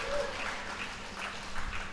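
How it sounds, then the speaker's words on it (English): Crowd at a bowls match, the 2023 Nationals Masters Singles quarter-finals, breaking into applause and cheers, a steady wash of clapping and excited voices held throughout at moderate distance. "There's some people going nuts in the crowd for probably Shelley."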